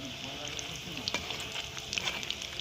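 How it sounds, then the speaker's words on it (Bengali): Pieces of catla fish fry in hot oil in a kadai with a continuous close sizzle and crackle, and a few brief stirring scrapes. "এবারে এটা আমরা একটু লাল লাল করে ভেজে নেব"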